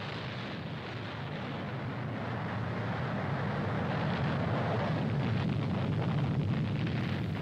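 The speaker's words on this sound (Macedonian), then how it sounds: "Надвор од Западна Австралија се изведува експлозијата на првата британска атомска бомба." The first British atomic bomb detonates off Western Australia in 1952, a sustained, heavy roaring rumble that stays loud and continuous throughout, with no voices.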